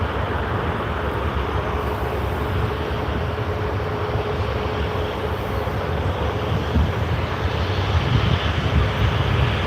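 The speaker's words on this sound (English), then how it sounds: "There goes our Perth flight." A Virgin Australia airliner taking off at night for Perth, a steady broad jet roar heard from a distance, constant and unbroken throughout with wind noise mixed in and no talking.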